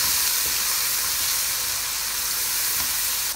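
Coriander powder and spices frying in a pan for kadhi give off a steady, close sizzle that holds evenly for about three seconds.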